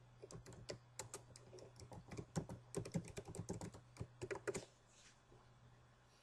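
Fingers type a username and password on a computer keyboard, a quick close run of light key clicks that stops near the end, followed by quiet.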